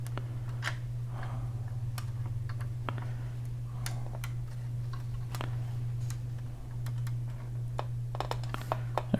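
A plastic zip tie cinched tight around a cable on a DeAgostini Lotus F1 scale model, giving close, crisp ratcheting ticks in uneven bursts over a steady low electrical hum.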